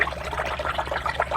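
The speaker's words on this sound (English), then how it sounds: "I'm going to go into the water, going to run the airbrush" An airbrush run in a cup of water for washing, giving close gurgling, bubbling and pouring noises in quick uneven bursts.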